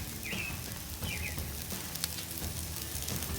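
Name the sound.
French fries frying in oil on a Blackstone griddle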